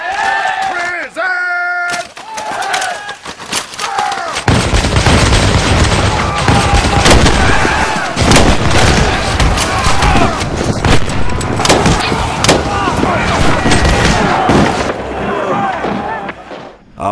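Muskets fire in a reenactment of the Lexington and Concord battle. Shouted commands come first, then a dense, ragged crackle of many shots carries on at length, with crowd noise mixed in.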